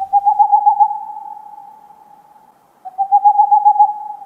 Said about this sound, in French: Les ululements des chouettes et des hiboux a toujours intrigué les humains